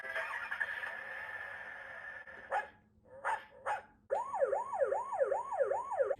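A Paw Patrol Marshall toy fire truck siren wails in rising and falling electronic sweeps after a few short beeps and a sustained tone, loud and close.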